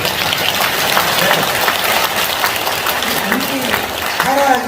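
Crowd applause at a Garak clan association general assembly, sustained loud clapping throughout, with voices rising underneath toward the end.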